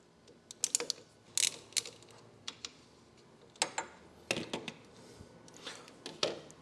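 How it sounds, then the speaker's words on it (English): A ratchet loosens a bolt on a frame mount with short, crisp clicking bursts, quick runs of ticks separated by pauses, close by and fairly faint. "we're going to take this bolt out right here"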